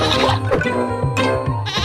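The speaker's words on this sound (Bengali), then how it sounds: "এ কি, ছাগলটা এসে গুঁতো মেরে ফেলে দিল।" A goat in the Meena video game bleats in loud, wavering cries, several close calls in a row with no talk over them.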